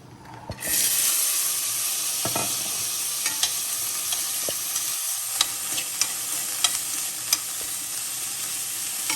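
Steady loud sizzling of chickpeas dropped into hot oil with asafoetida, with occasional spoon scrapes and taps against the pan, close up.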